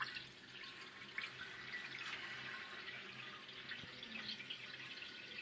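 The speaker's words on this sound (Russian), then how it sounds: "Открываем краны." Water running steadily from newly fitted taps on a boiler, a continuous broad hiss of flow with light splashing, close and even throughout with no voices.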